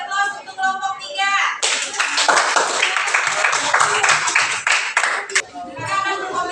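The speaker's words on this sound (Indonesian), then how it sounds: "Oke, beri aplaus untuk kelompok 3" Classroom applause for a student group: a dense, loud burst of clapping from many children that swells in, holds steady for several seconds, then stops, with children's voices heard before and after.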